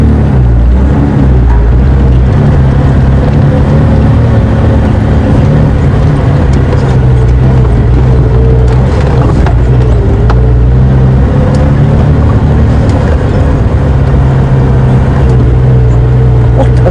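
A safari game-drive vehicle at Djuma Game Reserve rolls along in gear, its engine giving a loud, steady low rumble close by for the whole stretch, with no voices.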